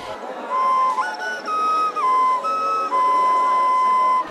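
A Belarusian folk whistle toy shaped like a horse, blown close up in several loud bursts of clear piping tones that step between pitches, with short breaks between blows.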